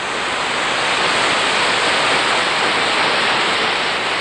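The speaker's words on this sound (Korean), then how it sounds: "지리 10경의 하나인 비경 불일폭포" Bulil Waterfall on Jirisan, a steady, loud and dense roar of falling water heard close up, continuous and unbroken with no voices.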